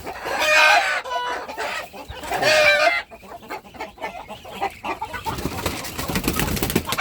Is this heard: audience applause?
no